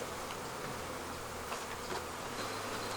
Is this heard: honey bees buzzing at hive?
yes